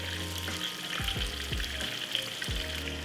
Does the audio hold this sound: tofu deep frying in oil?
yes